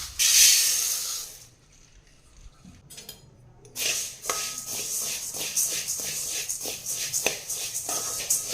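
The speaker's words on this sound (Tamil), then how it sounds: "அந்த அரை கிலோ மல்லியை ரெண்டு டைமாக சேர்த்து வறுத்துக்கலாம்" Half a kilo of coriander seeds dry-roasting in a kadai: a hiss at first, a short lull, then repeated dry scraping and rattling strokes as a spoon stirs the seeds against the metal pan, close and steady.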